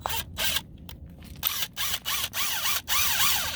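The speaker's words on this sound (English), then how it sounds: "Now listen to the impact wrench struggle to get this in the ground." An impact wrench drives a ground stake fitted with a washer into the soil at an angle, giving loud repeated bursts of rattling, whining mechanical hammering broken by brief pauses.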